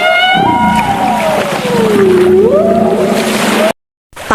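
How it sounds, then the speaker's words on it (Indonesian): A beluga whale calls underwater in a loud, sustained, singing-like voice, its pitch gliding down and back up in a wavering whistle over a low watery rumble, then cutting off abruptly. "adalah paus putih yang suka bersuara lucu seperti sedang bernyanyi di bawah laut"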